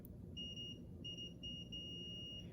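A high electronic continuity beep from a multimeter with its probes touched together sounds close by: two short beeps and then a longer sustained one over a low background hum.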